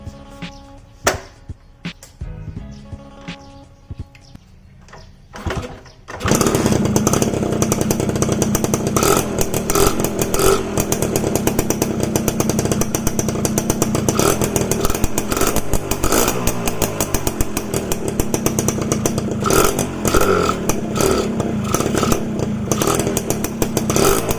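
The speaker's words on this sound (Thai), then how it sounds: "เดี๋ยวจะลอง ติดเครื่องให้ดูแล้วกันเนาะ" A Honda Nova 4-speed two-stroke motorcycle is kicked over with a few sharp attempts, then the engine fires and settles into a loud, raspy, continuous idle close by.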